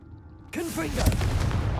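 A Confringo blasting spell bursts into a loud, close explosion in Hogwarts Legacy, a sudden rumbling boom with crackling debris rolling on, right after a voice shouts the spell.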